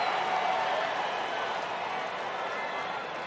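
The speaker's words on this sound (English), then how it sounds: "Crowd's been into it all weekend long." A large baseball stadium crowd of Red Sox and White Sox fans roars and applauds steadily, a dense, distant-sounding wash of cheering that holds throughout.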